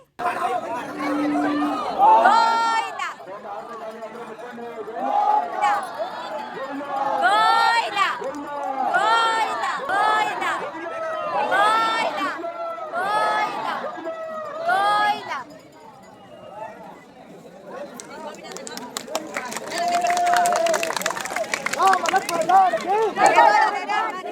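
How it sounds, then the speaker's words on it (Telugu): Devotees at a temple chariot festival chant Govinda in repeated rhythmic bursts, the crowd's voices swelling and falling over a busy hubbub with scattered clapping, fairly loud and close, ending in denser noisy cheering. "అందరూ క్లాప్స్ అలాగే ఫొటోస్ తీసుకుంటా గోవింద గోవింద అంటున్నారండి"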